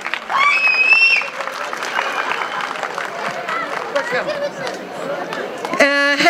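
Crowd at an outdoor nature festival in Turkey claps and cheers as a guest is called to the stage, moderately loud applause mixed with chatter, a voice over a PA at the start and a brief musical sting at the end.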